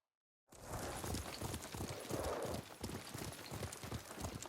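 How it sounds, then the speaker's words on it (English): Horse hooves galloping in the Ghost of Tsushima video game, a steady rapid clip-clop rhythm that is loud and close, running continuously after a brief silence. "What a good horse."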